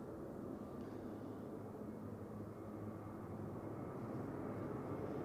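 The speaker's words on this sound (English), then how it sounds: "So, this is Turkish Airlines, I think, from Istanbul." A Turkish Airlines airliner at Zurich Airport on a gusty Christmas Eve, a steady distant jet engine roar that holds evenly and slowly grows a little stronger.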